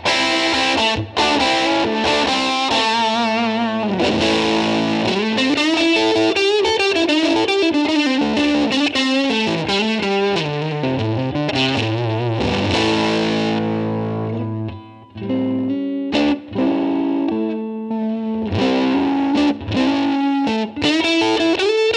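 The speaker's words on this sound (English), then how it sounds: "my favorite thing to start with is the EP booster, because this gives it that collapsing Tweed amp sound" Distorted electric guitar played through a Line 6 HX Stomp XL with the EP booster engaged for a collapsing Tweed-amp tone, loud and continuous with chords and single-note lines ringing alone throughout.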